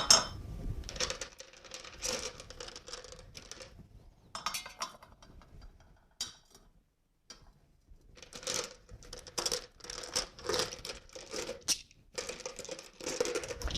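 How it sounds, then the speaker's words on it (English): Brown polished river rocks dropped into the bottom of a glass vase, giving bursts of clinking, clattering stone-on-glass knocks in several clusters separated by short pauses. "I'm going to add just some brown polished river rock into the bottom."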